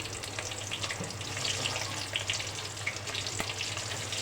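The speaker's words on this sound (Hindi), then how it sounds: "ये हम बाकी जो है ये भी इस तरह से हल्की आंच पे फ्राई कर लेंगे।" Stuffed bitter gourd (karela) frying in oil on low heat, a soft, steady close sizzle with faint crackles and a low background hum, no voices.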